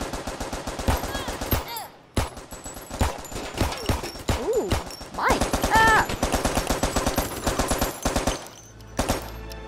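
Rapid automatic gunfire in the VR shooting game CrisisVRigade, dense bursts of close shots firing almost continuously with brief pauses, a player's voice exclaiming between bursts.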